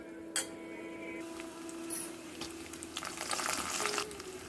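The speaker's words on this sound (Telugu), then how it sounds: "ఇప్పుడు పోపు వేసుకోవాలన్నమాట ఇందులోకి" Tempering spices crackle and sizzle in hot sesame oil, rising into a loud burst of spattering with a few metal clinks.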